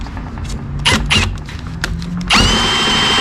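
A drill whirs in short bursts while drilling truck spindles, then runs steadily and loud near the end, with creaks and a thump between bursts.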